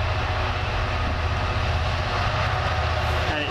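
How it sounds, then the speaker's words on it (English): Freight train hauled by Class 66 locomotive 66704, running from Tyne Dock coal terminal, rumbles past close by with a heavy, continuous low drone and steady engine noise throughout. "This should be my freight train going from Tyne Dock Coal Terminal to"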